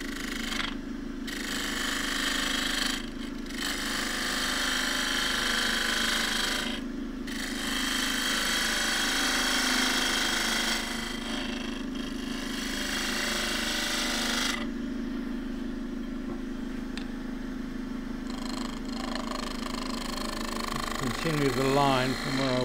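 Wood lathe turning a cross-grain tripod pencil pot with a half inch spindle gouge, a steady whirring hum with intermittent scraping cuts that start and stop, under a voice talking.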